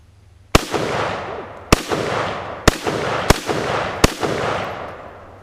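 Five loud gunshots from a 1953 Tula-built SKS rifle firing original SKS ammunition. Each sharp crack is followed by a long, rumbling reverberant tail, and the shots come at uneven intervals of about a second with no talking.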